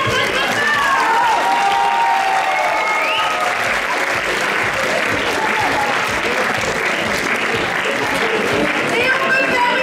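Loud, sustained applause and cheering from a live audience at an improv theatre festival, continuous throughout with some crowd voices mixed in.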